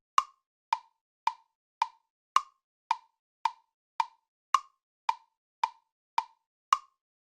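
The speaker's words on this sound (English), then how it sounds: "You will hear the metronome click." Sharp, evenly spaced clicks tick along at a steady tempo, about twelve in all, crisp and isolated against silence.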